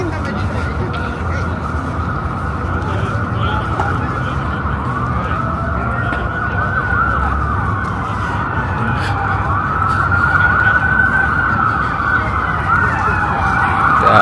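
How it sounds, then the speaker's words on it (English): An ambulance drives through a city street with its siren wailing loudly and continuously, the rising and falling tone riding over steady traffic rumble as it passes nearby. "We got ambulance rolling through."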